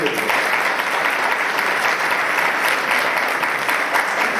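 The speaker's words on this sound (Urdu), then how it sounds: "تالیاں بجائیں گے" A room full of people at a Sunday church service claps together, loud and close, the applause holding steady from start to finish.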